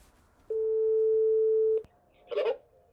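A doorbell rings at a house with one long, steady electronic tone lasting over a second. A short clattering knock-like burst follows, all fairly close and clear.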